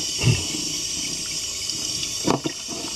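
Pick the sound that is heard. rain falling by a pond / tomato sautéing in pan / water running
water running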